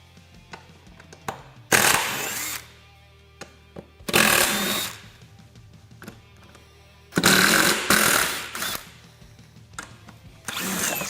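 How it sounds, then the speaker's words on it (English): A power driver with a T27 bit backs screws out of a Polaris RZR seat, running in four separate loud whirring bursts of one to two seconds each, with quiet pauses and small handling clicks between them. "we'll take a T27 and remove the following screws"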